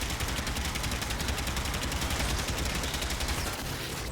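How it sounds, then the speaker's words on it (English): Rapid continuous automatic gunfire from a weapon in the Warframe game, a dense rattling stream of shots sustained loud and close for the whole stretch with no talking. "Or maybe I have to keep shooting it."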